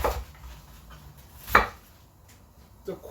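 A knife cuts the core out of a cabbage, giving one sharp chopping thud against a board near the middle, with a softer knock at the start and another near the end, all close and otherwise quiet.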